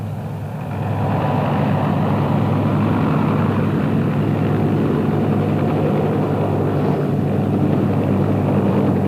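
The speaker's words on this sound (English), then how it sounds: "a BEA helicopter is laid on for short trips around the fairground" A steady, loud mechanical engine drone with a low rumbling throb, continuous and close, from a BEA passenger helicopter running nearby at a fairground; no voices.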